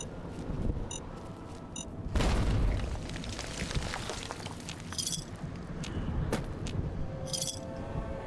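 A frag grenade detonates in Fallout: New Vegas, a sudden broad boom that rolls into a sustained rumbling blast, with faint clinks and small pops around it, fairly loud and alone.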